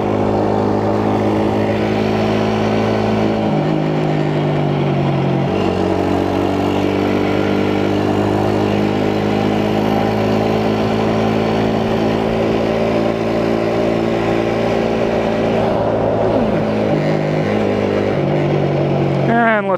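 A Chinese-made quad ATV engine drones steadily throughout a ride in second gear, its harmonic hum shifting with throttle changes near the rider, with someone talking over it at times.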